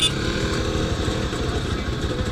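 A Jawa motorcycle engine runs steadily nearby at an event on a rainy day, a continuous low throbbing rumble that holds without any clear revving for a couple of seconds.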